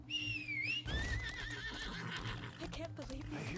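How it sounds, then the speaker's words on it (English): A horse whinnies loudly in the video game Lost Ark with a rising, wavering call, followed by softer snorts and hoof sounds against background game audio. "Can I ride my horse over there?"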